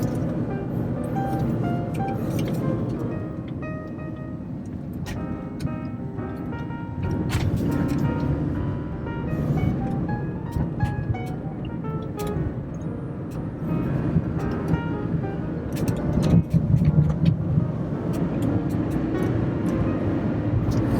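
Car cruising on the 5 freeway in Irvine, a steady broadband road and engine rumble with tire noise that holds level throughout, swelling slightly near the end as traffic passes.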